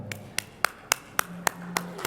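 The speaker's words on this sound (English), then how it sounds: "And applaud yourself." A few people clapping slowly at a NATPE 2013 conference session, about eight separate, evenly spaced claps, sparse and fairly close, with a faint hum underneath.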